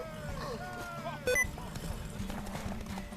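Rhythmic hoofbeats of a galloping horse in The Witcher 3 video game, with game music and sound effects, a short electronic beep partway through.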